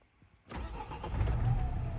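A 2013 Renault Trafic with a 2.0 diesel engine turns over and catches after a quiet half-second, then settles into a steady, close, loud idle with no talking.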